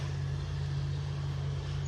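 A John Deere tractor drives along a North Naples, Florida beach toward its garage, giving a short burst of steady, close, low diesel-like rumble with a strong, even hum.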